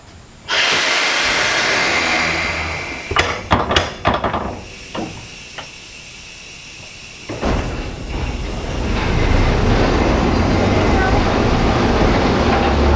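Vintage trolley car at a trolley museum starting off on rails, a loud motor and rail rumble building after a few sharp mechanical clunks and clicks, then a steady rolling roar.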